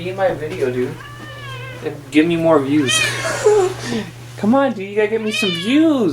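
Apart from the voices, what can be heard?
cat meowing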